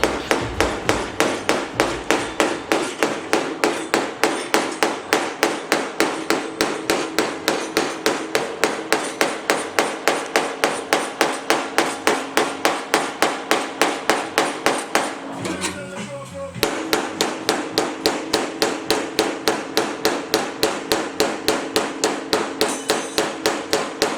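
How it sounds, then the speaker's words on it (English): Steady, rapid metal hammer blows reshape a body seam on a VW Type 3 Notchback during restoration, loud and close in a continuous rhythm with a brief pause midway. "just bending the seam into shape here."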